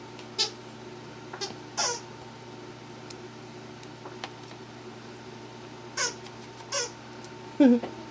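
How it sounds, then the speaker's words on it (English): A dog chews a squeaky toy, making scattered, sharp squeaks at irregular intervals against a quiet indoor background, with one louder squeak near the end. "You squeaking your toy, Blakey?"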